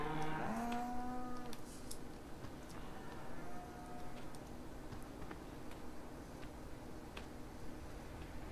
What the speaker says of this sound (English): Beef cows.